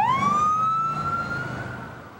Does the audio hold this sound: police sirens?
yes